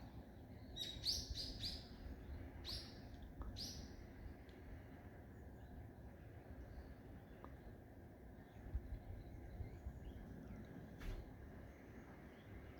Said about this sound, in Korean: 떼새 소리가 더 가까이 들리기 시작하네요.